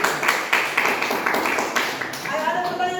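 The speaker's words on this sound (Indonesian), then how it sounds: "Tepuk tangan lagi." A classroom group claps in a quick, evenly spaced rhythm of sharp hand claps, several beats in a row, with voices rising as the clapping fades.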